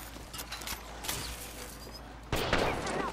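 Gunfire in the Apex Legends video game: a string of sharp shots spread across the moment, with a louder, denser burst near the end, all fairly close and without talk.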